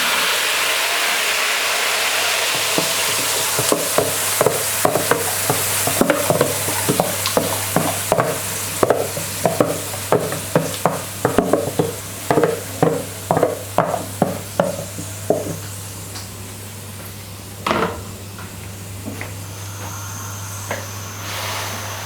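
A thin gravy is stirred into a chicken masala in a pan where drumsticks will later be added. A loud sizzle is joined by a run of rhythmic scraping stirs, with a steady low hum underneath.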